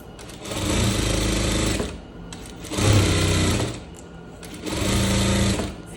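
Sewing machine stitching and backstitching a seam on a striped shirt, three loud sustained whirring runs separated by brief pauses, close up with no voices.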